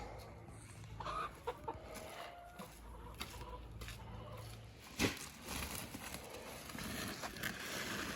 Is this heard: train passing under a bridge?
no